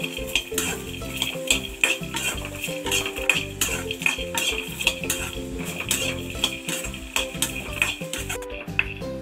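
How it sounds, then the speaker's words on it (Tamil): Peanuts, coconut, dried chillies and curry leaves are sautéed for peanut chutney, a spoon clattering and scraping rhythmically against the pan over a low sizzle, close and busy for the whole stretch. "நிலக்கடலை, தேங்காய், பட்டை மிளகாய், கருவேப்பிலை எல்லாமே நல்லா வதங்கிருச்சு"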